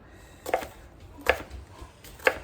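Knife chopping vegetables for corn relish on a cutting board, three sharp distinct cuts spaced about a second apart, close and clear over quiet background.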